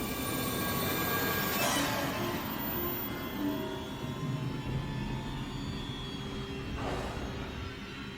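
A heavy, rumbling drone with a low mechanical hum builds steadily as a transit car arrives on rails in the video game Alien: Isolation, loud and continuous without voices.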